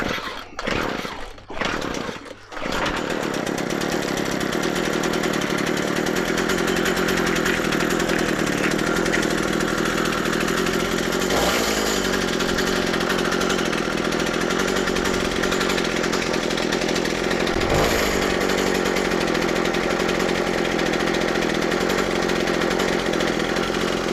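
A McCulloch MH542P petrol hedge trimmer is pull-started with a few sharp cord pulls, then its engine catches and runs steadily, loud and close, with a continuous buzzing drone.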